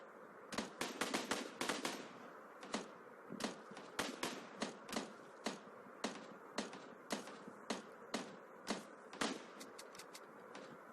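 Rapid gunfire from the mobile battle royale game PUBG Mobile: sharp bursts of shots in quick irregular clusters, clear and fairly loud, with no talking over them.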